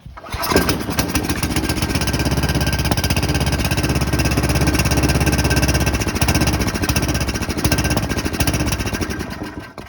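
A snowblower engine with a gummed-up carburetor running rough: a loud, close, continuous motor with an uneven, pulsing beat from start to finish.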